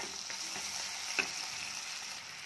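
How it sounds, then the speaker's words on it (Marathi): Tomato sautéing with onion in a pan for a potato bhaji, giving a soft continuous frying hiss with a few faint stirring taps and one brief clink. "टोमॅटो देखील छान परतून घेऊया।"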